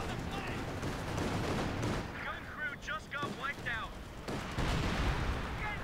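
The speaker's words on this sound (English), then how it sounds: "Massive armor battle, AT guns hitting it." Anti-tank guns fire during a massive armor battle in a Company of Heroes 2 4v4 match, a dense run of booming shots and impacts mixed with battle noise, with talk heard partway through.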